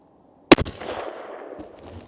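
A single rifle shot fired from a bench through an Anechoic 30L suppressor: one sharp, loud crack after silence, followed by a short, decaying echo.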